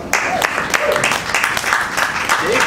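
Audience clapping during a mock courtroom event as a witness is called to the stand, with a few voices talking over the sustained applause.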